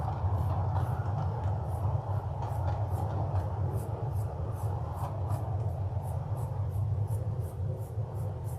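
Steady low rumble of a train rolling past, with a repeating clatter of wheels over rail joints throughout.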